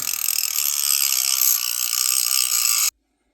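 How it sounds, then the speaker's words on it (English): A Milwaukee cordless rotary tool spins at low speed, giving a steady, close, high-pitched motor whine that runs evenly for about three seconds and then cuts off abruptly into silence. "Low RPM right now."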